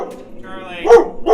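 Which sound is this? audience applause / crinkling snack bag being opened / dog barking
dog barking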